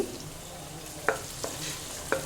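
Ginger garlic paste sizzles in a frying pan during chicken sixty-five biryani preparation, with a soft hiss underneath and a few distinct scraping knocks as a spoon stirs it.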